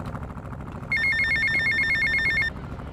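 A payphone rings in Grand Theft Auto Vice City, a bright electronic trill that starts abruptly, repeats in rapid bursts for about a second and a half, then stops, over a low game background.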